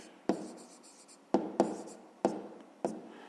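Pen or chalk strokes scratch out short handwritten marks in a maths lesson, a few crisp taps and scrapes spaced unevenly, close and fairly clear with no talk over them.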